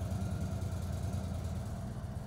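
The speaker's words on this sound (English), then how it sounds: "Start the engine and allow it to warm up at idle for 5 minutes." A 2023 Indian Sport Chief motorcycle engine idles during warm-up on a flat, level surface, giving a steady low throbbing rumble, close and even, with no voices.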